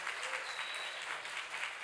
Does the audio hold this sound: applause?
yes